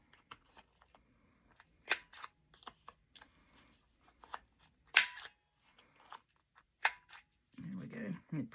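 Scissors cutting craft material for Christmas decorations, several sharp snips and crisp paper rustles scattered between quiet gaps, close by, with a soft rustle at the end.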